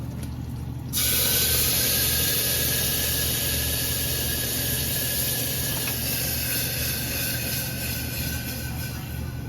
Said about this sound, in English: Now add tomato puree, guys.